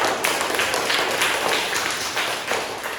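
A classroom of students applauds themselves, quick overlapping claps forming a steady, moderately loud patter for about three seconds.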